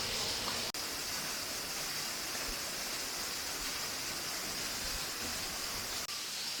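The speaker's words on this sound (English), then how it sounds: "You can see a really big waterfall behind me." Large waterfall at Flume Gorge, a steady, dense roar of falling water filling the whole clip at close range, continuous and unbroken with no voices.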